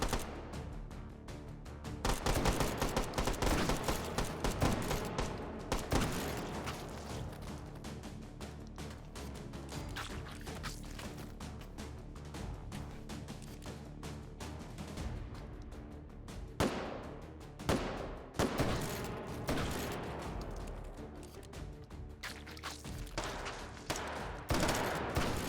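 A trench gun shotgun fires repeatedly in the H3VR video game, with sharp loud blasts spaced irregularly throughout and mechanical racking between shots.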